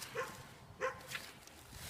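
Dogs barking somewhere close by, heard as three short, fairly faint barks spaced unevenly over a couple of seconds against a quiet outdoor background.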